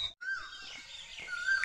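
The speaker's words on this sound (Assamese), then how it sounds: "কুলিৰ মাতটো শুনিছেনে" Outdoors on a morning walk, a koel calls with faint, distant whistling notes, rising and repeating briefly with no other sound nearby.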